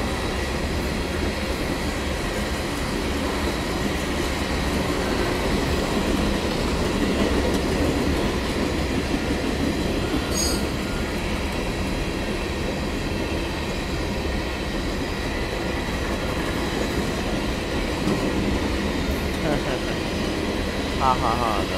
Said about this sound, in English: it's a Herzog train